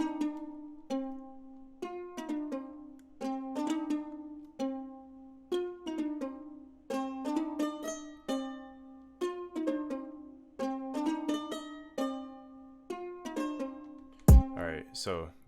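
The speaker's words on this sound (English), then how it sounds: "I got a guitar preset from Soundcloud, and they call it a charango." A plucked, charango-like guitar synth plays a bright, steady melody of short decaying notes, alone, ending with a sharp click.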